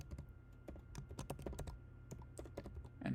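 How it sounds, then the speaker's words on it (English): A file name being typed on a computer keyboard: a quick, uneven run of close, quiet key clicks with short pauses between bursts. "Then we have to type the name of the Abaqus input file."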